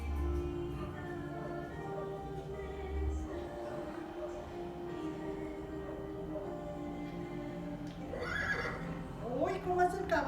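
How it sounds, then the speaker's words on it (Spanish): A horse whinnies and neighs, with hooves clip-clopping, in a children's animal-sounds lesson; the calls rise near the end over a constant background. "Vamos a guardar silencio para escuchar cómo hace un caballo."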